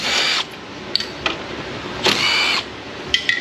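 A power tool works 10 mm fasteners off a car in short whirring bursts of about two seconds each, separated by brief clicks and clatter, close and fairly loud.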